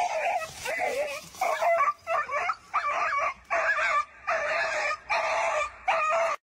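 A dog yelps and whimpers in a series of short, high, evenly spaced bursts, close and loud, separated by brief pauses.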